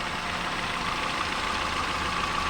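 A rebuilt engine idles after a cylinder head repair, giving a steady, continuous low rumble with an even mechanical hum throughout, fairly close and with no talk over it.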